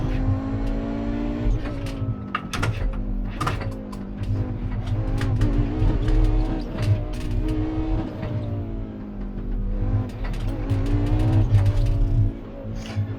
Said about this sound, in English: whenever the car starts sliding a little bit, the entire chassis is shaking like this